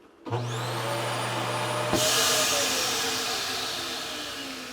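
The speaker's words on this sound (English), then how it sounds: "you lift this up, turn on the vacuum, and drop it right back down when you're done sweeping everything in there" Central vacuum in a 2021 IBEX 19MBH travel trailer, switched on at a sweep inlet: a steady close motor whine and airflow roar, a brief clunk near two seconds, then louder rushing suction holding alone to the end.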